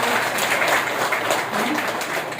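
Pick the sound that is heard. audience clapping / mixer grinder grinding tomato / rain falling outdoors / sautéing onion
audience clapping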